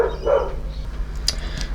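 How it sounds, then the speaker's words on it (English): Dogs bark nearby in a few sharp, short bursts, with a yip near the start and more barks following over under two seconds. "here goes those dogs again."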